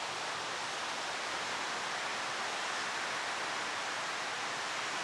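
Water running steadily to fill a farm dam in Queensland, a continuous, even rushing hiss with no breaks, no talking and moderate loudness throughout.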